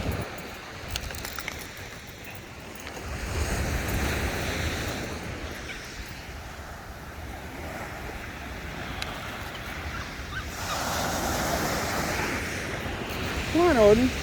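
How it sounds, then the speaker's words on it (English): Ocean waves breaking on a beach during a forest and beach walk, a soft swelling wash that rises and falls, with gusts of wind on the microphone and faint voices. "Even the wave sound scares him."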